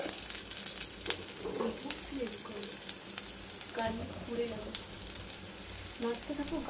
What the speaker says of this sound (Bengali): তো এবার দিচ্ছি একটু ফার্স্ট গার্লিক